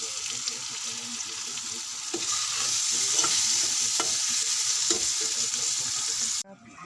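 Green chilies hit an egg curry frying in the pan and set off a loud, continuous sizzle. Stirring taps break into it now and then before it cuts off abruptly near the end.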